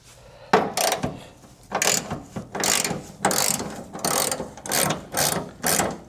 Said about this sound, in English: Guess I'll loosen them bolts against my better judgment.